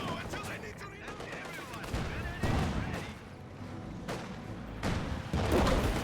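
Gunfire in the Company of Heroes 2 strategy game comes as repeated bursts of shots and thuds at moderate level, mixed with in-game effects while a voice commentates over the match.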